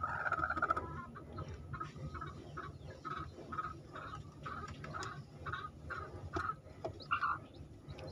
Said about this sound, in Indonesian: inilah indukan ayam